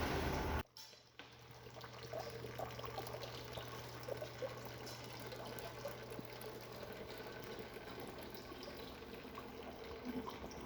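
Water runs steadily from a tap-like outlet on a small prototype fluid system, a faint continuous trickle and splash that begins after a brief click and keeps going without pause.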